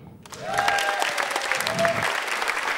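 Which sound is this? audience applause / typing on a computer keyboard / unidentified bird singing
audience applause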